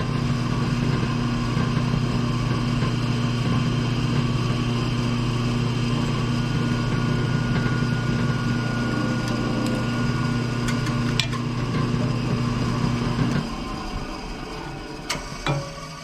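A steady, loud motorized drill whine with a strong low hum runs for about thirteen seconds while boring a hole in a harpoon knife build, then cuts off, leaving faint clicks and handling noise.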